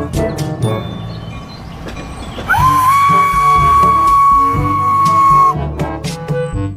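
A toy train runs with mechanical clicking, then a long steady electronic whistle tone sounds for a few seconds before the rattling resumes.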